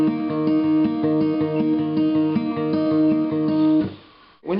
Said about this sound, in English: the picking you're gonna play is gonna go with the pattern along with the strings A,